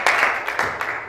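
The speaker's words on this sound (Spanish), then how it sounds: "Dale un fuerte aplauso al Señor." Church congregation applauding, a short burst of dense clapping that rises quickly and stays steady for about a second.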